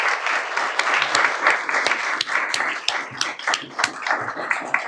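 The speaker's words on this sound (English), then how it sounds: "Let's give these candidates a round of applause." An audience at a League of Women Voters candidate event applauds the candidates: sustained, moderately loud clapping from many hands over about five seconds, with sharper individual claps standing out and no talking.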